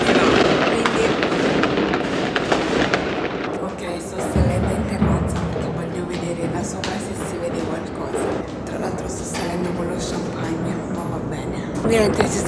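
New Year fireworks outdoors, a dense, continuous barrage of bangs and crackles, some near and some distant, with a person talking over them.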